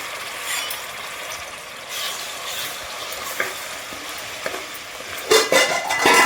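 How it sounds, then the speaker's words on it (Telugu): Onion paste frying in hot oil for a Telugu-style bontha fish curry gives a steady, close hiss of sizzling, broken by a few sharp clicks and a louder burst of spattering near the end. "ఆయిల్ వేడైన తర్వాత ముందే చేసి పెట్టుకున్న ఉల్లిపాయ పేస్ట్ వేసుకోవాలండి"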